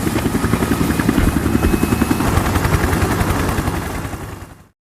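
A military helicopter carrying special forces departs, its rotor producing a loud, rapid rhythmic chop that holds steady, then fades and cuts off abruptly near the end.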